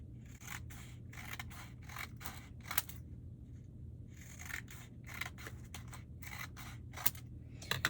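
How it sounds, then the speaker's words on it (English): Scissors snipping through magazine paper strips in quick bursts of sharp cuts, close and crisp, separated by short pauses, with no talking. "I am going to cut out my strips."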